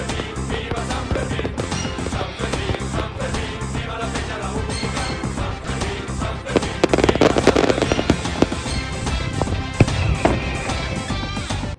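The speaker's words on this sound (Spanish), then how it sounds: "Fuegos artificiales." A dense fireworks display at the San Fermín festival, with rapid, continuous loud bangs and crackles overlapping for the whole stretch, building to a heavier burst in the middle.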